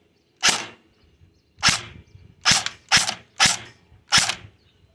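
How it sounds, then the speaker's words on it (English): A CYMA CM.079C airsoft gun run on an 11.1V LiPo gives six sharp mechanical bursts: the charging handle is racked, then single semi-auto shots follow at uneven intervals, loud and close with no voices. "Rack that charging handle just for cool effects. Switch it to semi."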